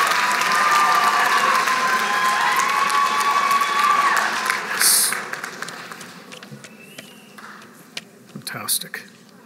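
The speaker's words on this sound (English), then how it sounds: "Big round of applause for our EA graduates" Graduates at a college graduation ceremony receive sustained crowd applause that stays loud, then thins out into scattered, fading claps, with a voice speaking over the opening.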